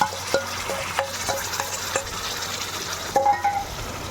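Onion paste frying in oil with tomatoes, a soft hiss with a few scattered stirring scrapes and light clinks of a spoon against the pan, quiet and close, with no voices.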